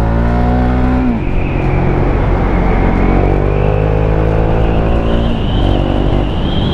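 A KTM Duke 690 A2 motorcycle on a test ride roars loudly and close, its pitch dropping sharply at a gear change, then climbing steadily again as the engine pulls through the revs.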